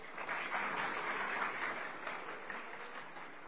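Audience applause at a political speech, a dense, even wash of many hands clapping that holds steady for a few seconds.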